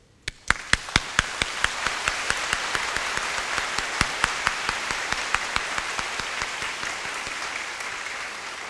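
An audience at a Hong Kong hymn concert breaks into applause, a few distinct loud claps at first that quickly thicken into dense, sustained clapping across the hall.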